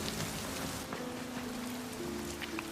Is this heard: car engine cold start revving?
no